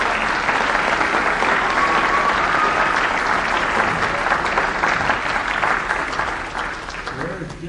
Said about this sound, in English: Give him a nice applause